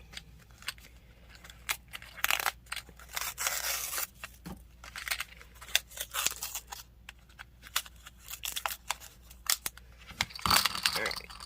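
Scissors snip and plastic packaging tears and crinkles in short bursts, close by, with brief handling noises between cuts.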